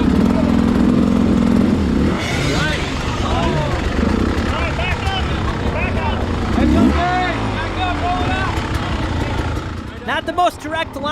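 An enduro dirt bike climbs a rocky mountain section during a hard enduro qualifier, its engine revving in repeated rising and falling bursts, loud and close throughout, with a voice heard over it.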